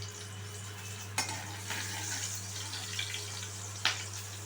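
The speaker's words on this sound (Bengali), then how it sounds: "তেলটা গরম হয়ে গেছে, আমি এখানে দিয়ে দিচ্ছি কালো জিরে কয়েকটা আর কয়েকটি চেরা কাঁচা লঙ্কা।" Black cumin seeds and slit green chillies crackle in hot oil over a gas flame, a steady soft sizzle with a couple of sharp pops, close and alone.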